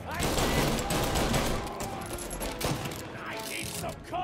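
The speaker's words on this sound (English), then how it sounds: "Shoot! I gotta shoot them." Dense gunfire in Mafia: Definitive Edition comes as a loud, crackling fusillade of rapid shots that thins out slightly toward the end, with voices talking faintly underneath.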